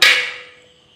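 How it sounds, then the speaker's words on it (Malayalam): A metal ring is set into a cooking pot preheated for a stovetop pineapple cake, making one sharp, close metallic clank that rings out and decays over about half a second. "ഇനി അതിലേക്കൊരു റിങ് വെച്ച് കൊടുക്കാം"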